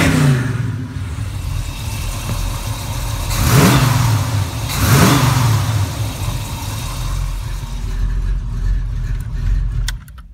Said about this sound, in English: you might hear it better as I rev it a little.